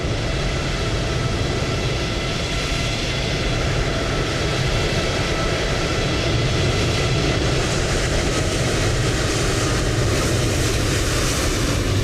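A British Airways airliner climbs out in Microsoft Flight Simulator 2020 with a continuous, loud, broadband engine roar that holds steady throughout, with no talk.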